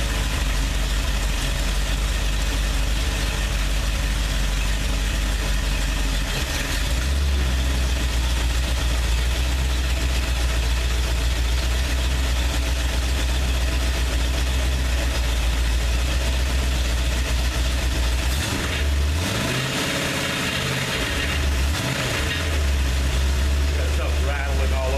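A 302 engine idles continuously up close with a steady low drone, while loose parts on the machine rattle. A voice talks over it briefly, and the engine note dips and surges near the end.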